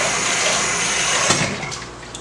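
Brown rice being rinsed under running water, a loud steady gush and splash of water over the grains, close and uninterrupted with no talking.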